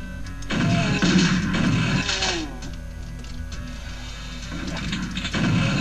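A bridge raised in a Doom II mod, mechanical grinding and whirring in loud bursts with low rumble, pausing briefly and then resuming near the end over a constant low hum.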